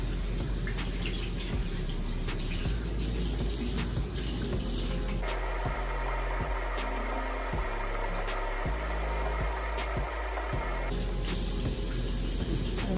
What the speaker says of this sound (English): And then rinse with water a lot.